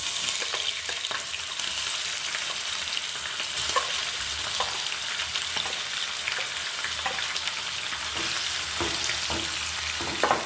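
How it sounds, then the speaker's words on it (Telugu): Raw cleaned prawns sizzle and crackle in hot oil, a dense continuous frying hiss with occasional sharper pops, close and loud, no voices. "మనం శుభ్రం చేసుకున్న పచ్చి రొయ్యలు ఫ్రై చేసుకుందాం."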